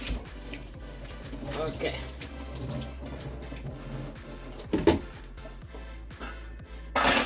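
Water runs steadily from a kitchen tap while fumbwa leaves are rinsed underneath, a continuous close splashing with brief louder gushes as the leaves are moved, and a voice speaks briefly.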